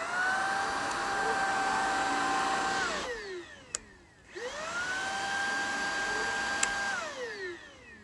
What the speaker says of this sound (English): Now I've taken out the middle pole just to make it into a mini vacuum